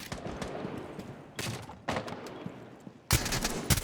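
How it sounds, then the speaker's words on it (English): Gunfire in an online shooter game, with a pistol among the weapons: sharp loud bursts of shots arriving in separate clusters, the last one the strongest, with no talking. "Kills him with the pistol."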